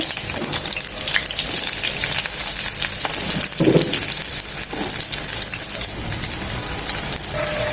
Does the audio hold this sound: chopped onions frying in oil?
yes